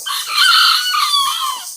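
A chicken crows and calls loudly and close by, one sustained, strained cry lasting almost two seconds with no talk over it.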